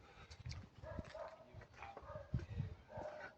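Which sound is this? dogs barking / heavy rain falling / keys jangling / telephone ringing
dogs barking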